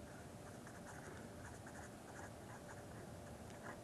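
Chalk or a pen writes on a board during a lecture on spherical coordinates, giving faint, steady scratchy strokes that run continuously with no talk.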